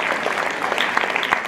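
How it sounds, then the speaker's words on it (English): Audience applause for the participants at FILCAN 2017, a dense steady patter of many hands clapping throughout, fairly close and loud. "a big hand of applause for all the incredible participants."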